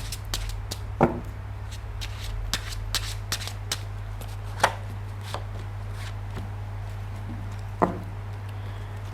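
Tarot cards shuffled and handled close by for a three-card reading, with soft riffling and sharp slaps as cards are flipped and set down at irregular intervals over a low steady hum.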